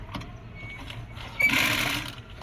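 A sewing machine stitching a palazzo pant, heard as a short burst of quick mechanical whirring about halfway through after faint handling noises, with no talking.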